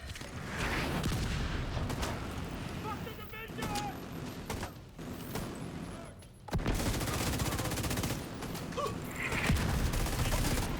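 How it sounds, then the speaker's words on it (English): Mortar and gunfire in a video game: repeated heavy blasts and bursts of shots, with a sharp loud impact near the middle, under a voice talking. "That mortar was kind of really poorly timed for me"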